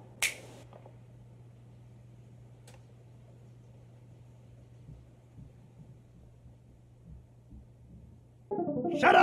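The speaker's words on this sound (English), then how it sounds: "I can snap my fingers" A single sharp finger snap at the start, then a quiet steady hum and faint rumble, with a brief louder burst of noise at the end.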